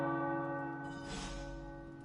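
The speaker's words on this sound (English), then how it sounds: "The tower bells are ringing." Tower bells ring in the video game Marvel's Midnight Suns, a single sustained bell tone with rich ringing harmonics that slowly fades, while a soft whooshing swell rises midway.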